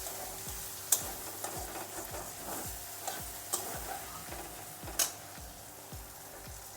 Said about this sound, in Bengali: তো সব কিছু দিয়ে আমি একটু ভালো করে কষিয়ে নেব।